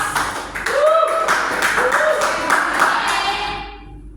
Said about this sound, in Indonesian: Sambil aplaus.